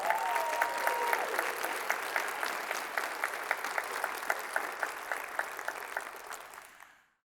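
Audience applause at a university campus band concert, steady clapping that fades out toward the end, fairly faint and heard alone.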